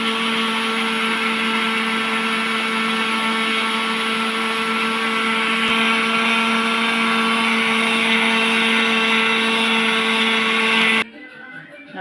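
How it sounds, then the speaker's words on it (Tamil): Mixer grinder blending orange peel soaked overnight in rose water, a loud steady motor whine with bright harmonic drone running continuously for about eleven seconds before cutting off abruptly. "அப்புறம் மார்னிங் வந்து ஒரு மிக்ஸி பவுலில் நல்லா கிரைண்ட் பண்ணிக்கணும்."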